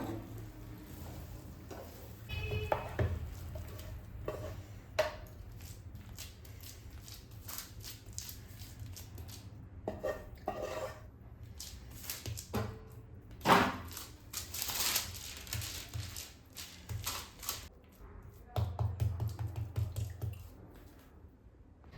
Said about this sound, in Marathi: आता आपण हे सर्व मिश्रण बटर पेपरवर काढून घेऊया